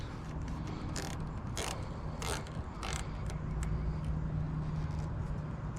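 A tool creaks and ratchets in a few separate bursts while screws are tightened to snug wires on a Little Wonder leaf vacuum during an hour meter installation, close up over a steady low hum.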